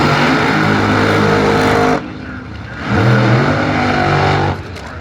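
Drag racing car engine roaring loud and close, a sustained high-revving blare that cuts off abruptly, then surges again with rising pitch before dropping away.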